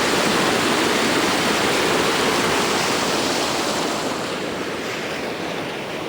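A creek in Barangay Jamog, Tigbauan, rushes steadily as a loud, continuous broadband wash of flowing water, close to the microphone and with no voices.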